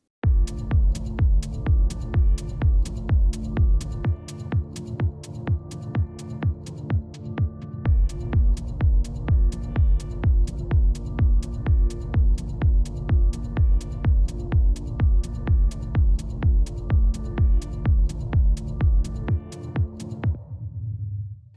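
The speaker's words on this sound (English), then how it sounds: "This is kind of a really nice techno background that you can utilize" A steady techno groove with a pounding kick on every beat and layered synth stabs, driving and loud, running evenly before fading out at the end.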